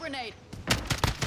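Video game gunfire, a few sharp shots in quick succession, following a brief voice-like sound at the start.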